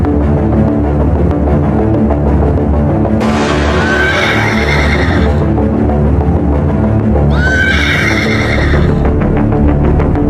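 A stallion neighs twice in the wild, two loud high whinnies rising over a constant rumbling, throbbing background, with faint hoof clip-clop possible beneath.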